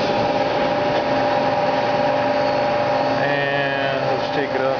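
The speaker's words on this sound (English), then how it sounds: "Go to manual spindle. There's 1700 RPMs." A Mazak QT20 CNC lathe spindle runs at 1700 RPM, a steady, loud mechanical whine with constant tonal hum throughout, shifting slightly in pitch near the end.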